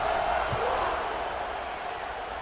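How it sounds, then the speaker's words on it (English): Stadium crowd noise in a college football video game, a steady loud roar of many voices filling the space throughout, with no distinct cheers or claps standing out. "this crowd is buzzing after that last score"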